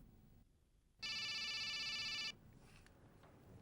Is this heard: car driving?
no